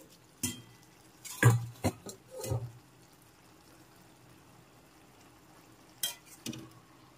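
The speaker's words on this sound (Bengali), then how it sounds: "একটু নেড়েচেড়ে দেখে নিচ্ছি।" Ridge gourd, potato and prawn curry stirred in a pot, giving a few short scraping and clinking bursts near the start and again near the end, with quiet stretches in between.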